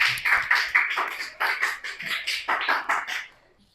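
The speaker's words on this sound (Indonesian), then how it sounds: "Beri tepuk tangan dulu untuk kelompok 7." A classroom claps in a quick, patterned rhythm for group 7 after a lesson on eclipses, with repeated bursts of claps close by that fade out at the end.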